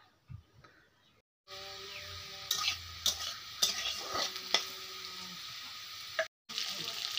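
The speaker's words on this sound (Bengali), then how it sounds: "এখানে আলুটি একটু ভেজে নিচ্ছি, এখানে ঝিঙাগুলো একটু ভেজে নিচ্ছি" Fish, potato and ridge gourd frying in a pan, close crackling sizzle with sharp pops and spatter bursts, broken by a couple of brief dropouts.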